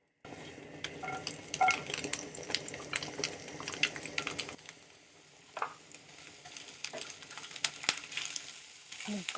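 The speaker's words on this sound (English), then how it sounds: "Garlic browning." Garlic sizzles and fries in a pan for pad thai, a steady crackling hiss with soft stirring and utensil clinks, fairly quiet and close.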